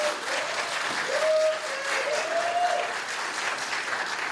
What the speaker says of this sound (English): Much applause to everyone.